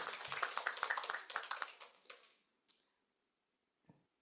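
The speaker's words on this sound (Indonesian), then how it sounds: "Tepuk tangan buat Kak Yusril." Sparse applause at a radio talk show, a small group clapping in quick uneven bursts that thin out and fade within a couple of seconds, followed by near silence and a couple of faint stray taps.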